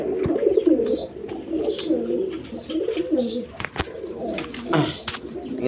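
A pair of gorra pigeons at a pigeon sale give rolling, repeated coos up close, broken by a few sharp clicks and a brief flutter near the end.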